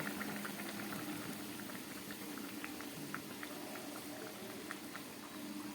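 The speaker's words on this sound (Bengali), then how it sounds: "চলুন মাছের ঝোলটা কতটা ফুটেছে দেখি" Folui fish curry simmers in a pot on a low gas flame, a steady bubbling boil with scattered pops and light patter, continuous and fairly close throughout.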